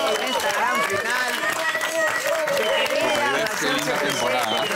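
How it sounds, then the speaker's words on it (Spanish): Studio audience applause welcoming the contestants at a celebrity cooking competition final, a steady dense wash of clapping from start to end with voices and music mixed in beneath. "quiero que recibamos con un fuerte aplauso a todos nuestros participantes"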